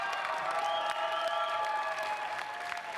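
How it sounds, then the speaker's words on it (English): Outdoor crowd at a pickleball championship final in chilly weather applauding and cheering two teams, a steady dense wash of clapping that holds for the whole span without a break. "Let's give it up one more time for these 2 incredible teams."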